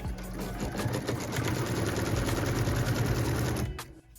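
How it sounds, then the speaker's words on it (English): An embroidery sewing machine runs steadily, stitching a tack-down line that holds a fabric piece in place on a pieced quilt block, a close, fast even whir that stops abruptly near the end. "now I'm going to stitch that line, and that is a tack down line, so it will keep that piece of fabric in place."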